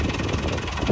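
A New Holland tractor engine idles with a dense, steady low rumble, loud and close, throughout a brief moment without talk.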